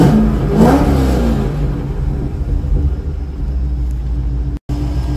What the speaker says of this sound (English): I have to let this engine sing for you to hear.